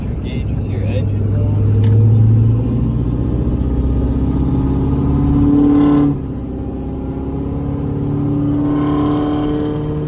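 A rebuilt 6.4L truck engine being broken in drones loudly nearby, its pitch climbing as it revs and then dropping back to a steady idle hum.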